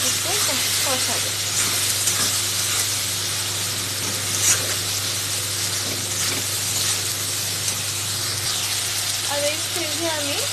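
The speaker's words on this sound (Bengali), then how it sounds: "আর দেবো আদা রসুনের পেস্ট, অল্প দেবো। ভালো মতো একটু কষাবো।" Ginger garlic paste fries in a pan for a pomfret fish curry, making a steady, moderate hiss and sizzle throughout, with a voice talking briefly at the start and again near the end.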